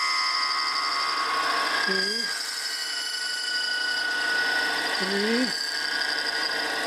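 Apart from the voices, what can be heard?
tapping a thread in a miniature steam engine part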